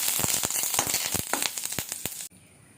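Fried masala for thogayal sizzling and crackling in a hot pan with curry leaves, with close, irregular pops and scrapes that cut off abruptly near the end.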